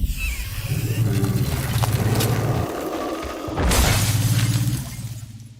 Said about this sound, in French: Le corps de l'allosaure gelé explose